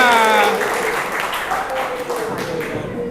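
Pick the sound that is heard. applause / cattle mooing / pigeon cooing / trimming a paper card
applause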